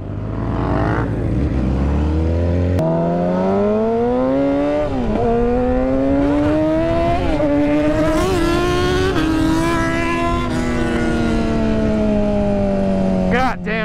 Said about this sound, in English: I fucking love this bike